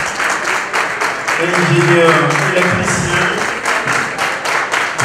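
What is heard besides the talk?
audience applauding at an awards ceremony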